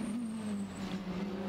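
A Renault racing car in a BOSS Ireland race for the Leinster Trophy comes down the main straight, its engine a steady high drone that holds for a moment at a distance without pause.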